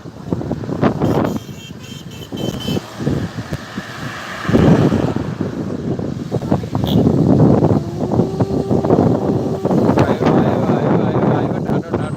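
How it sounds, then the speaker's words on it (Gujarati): Strong gusting wind ahead of rain in Vallabhipur taluka, roaring and buffeting against the microphone in heavy rising surges, loud and close, with rustling and a faint background hum. "પવનની ગતિ વધી ગઈ છે"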